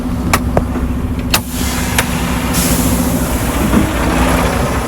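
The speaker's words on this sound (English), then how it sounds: "The brakes." Air brakes on a training truck hiss in several sharp bursts over a steady low diesel idle, the releases close and distinct against the engine drone, with no talk.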